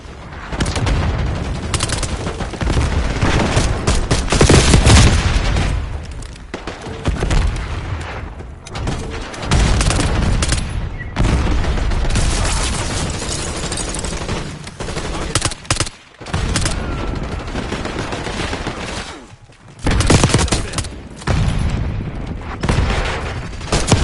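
An Archangel barrage fires in a shooter video game, loud and near: dense volleys of gunfire and booming blasts pound almost without pause, broken by a few brief gaps.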